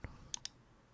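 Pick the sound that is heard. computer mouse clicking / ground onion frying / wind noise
computer mouse clicking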